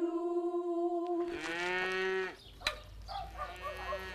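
A calf on a rural farm in the Kherson region moos in a long, loud, close call that rises and wavers before breaking off, followed by fainter rustling and a shorter low lowing sound.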